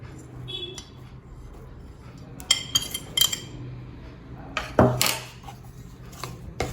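Crushed peanuts and ground sesame are mixed in a pan for til-jaggery vadi, with sparse, close metal scrapes and clinks from the spoon over a quiet background.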